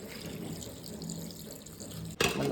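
Water poured into a cooking pot for crab curry, a soft running, trickling flow that ends with a brief louder splash, close and fairly quiet with no talk.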